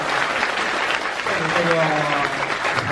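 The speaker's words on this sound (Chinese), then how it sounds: "给主持人鼓鼓掌，好不好啊？" An audience at an improv comedy show keeps up loud, continuous applause for the host while someone talks over it.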